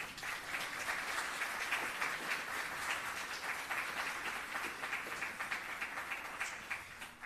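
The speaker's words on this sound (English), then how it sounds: "please give a round of applause to our member state, the people and government of Jamaica." Crowd applause at a UN Day flag-raising ceremony honouring Jamaica, an even, moderately distant patter of many hands clapping that continues for several seconds before easing slightly at the end.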